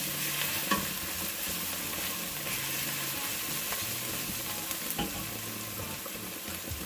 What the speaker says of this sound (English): So it's frying still.